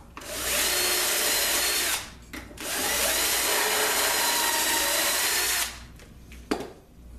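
A power drill bores into plywood, moving from flat grain into end grain, in two loud sustained grinding bursts separated by a short pause, followed by quieter handling noises.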